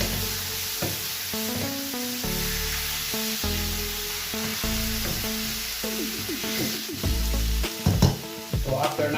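Chicken sizzling and frying in a pan as it is sautéed and stirred, with steady crackling and intermittent scraping stir strokes, fairly close, no voices.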